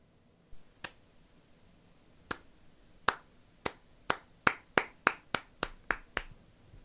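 A single person gives a slow clap, sharp close hand claps starting sparse and widely spaced, then quickening into a steadier run of a dozen or so claps, with no voices.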